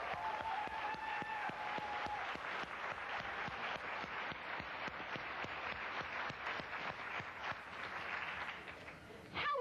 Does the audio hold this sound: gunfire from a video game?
no